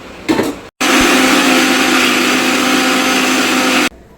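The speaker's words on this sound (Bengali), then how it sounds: "এবার মিক্সচারের সাহায্যে এটাকে আমি পেস্ট করে নেব" Mixer grinder whirring loudly as it blends raw cabbage with green chillies, a little ginger and a splash of water into paste, running steadily for about three seconds after a brief rattle and pause, then cutting off.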